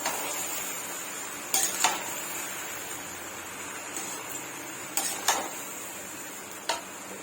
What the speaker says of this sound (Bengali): ভালোভাবে মিশিয়ে নিচ্ছি, ভালো করে মিশিয়ে নিচ্ছি।